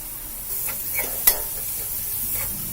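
Carrot, beans, cabbage and capsicum stir-frying in a hot pan for chicken fried rice, a steady close sizzle with a spatula scraping and stirring through it.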